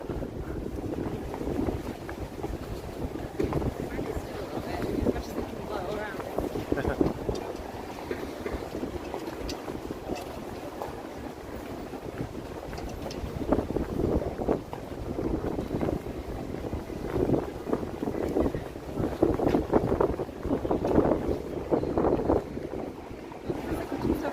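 Strong wind buffets the microphone in uneven gusts, rumbling and roaring continuously outdoors.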